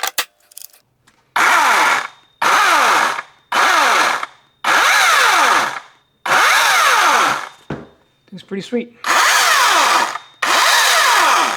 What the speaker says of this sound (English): It's a little loud, but feels very, very powerful, like a 40cc gas motor chainsaw.